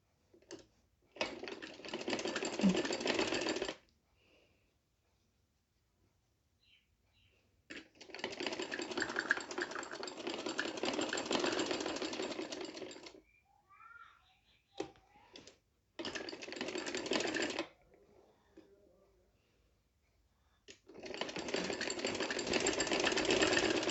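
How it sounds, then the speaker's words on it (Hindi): Sewing machine stitching the collar neck of a kurti, running in four long bursts of rapid, steady mechanical whirring with short quiet pauses between them, close and fairly loud with no talking. "अब इसकी स्टिचिंग करनी है तो स्टिचिंग कर लेते हैं। इस तरह से इसकी स्टिचिंग करें।"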